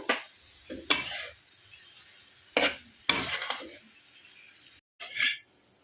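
Ridge gourd peels and green chilies frying in a pan, stirred in a few separate bursts of scraping and sizzling against the metal, with short quiet gaps between strokes.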